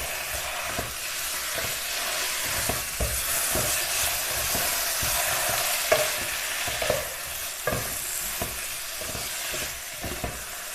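Chicken pieces are stirred in a sizzling pan for Kerala-style chicken thoran, a continuous hiss of frying broken by repeated scraping strokes of a spoon, close and steady with no talking.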